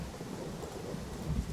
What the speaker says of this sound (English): we are moving extra slow because we are in the rain. Extra torrential downpour.